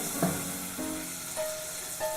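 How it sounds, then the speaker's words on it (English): Butter melts in a pan over medium heat with a soft, steady sizzle and faint hiss, close and continuous, broken by a few light clinks and tonal beeps. "So we're just going to turn it up to a medium heat to slowly melt that butter."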